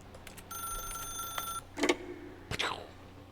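An old-style telephone rings in The Stanley Parable, two bursts of electronic trilling bell with a few clicks and brief sound effects between, fairly close and clear over a quiet background.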